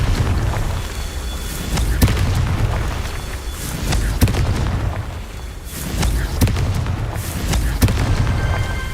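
Confringo blasting spells in Hogwarts Legacy burst again and again in loud, booming explosions every second or two, each sharp crack followed by a rumbling tail over continuous combat noise.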